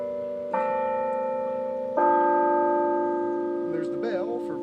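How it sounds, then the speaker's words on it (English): A clock bell strikes three slow, ringing tones that sustain and decay between blows, heard indoors with voices starting to talk near the end. "there's the bell for 3 o'clock, I believe."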